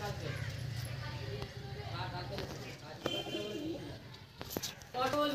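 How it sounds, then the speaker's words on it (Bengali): Pigeons coo in soft, low rolling calls amid scattered wing flaps and a few sharp clicks, close by and fairly quiet, while someone talks over them. "বন্ধুরা দেখো পায়রাগুলো উঠছে"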